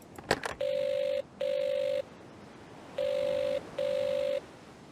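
A telephone rings in an Agatha Christie video game, giving two double rings with a pause between them, clear and moderately loud after a short click at the start.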